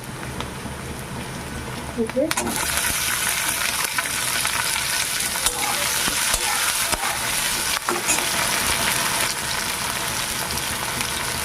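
Chopped tomato hits a pan of lightly fried green chillies, and a loud, dense sizzle bursts up and holds steady, with faint stirring scrapes throughout.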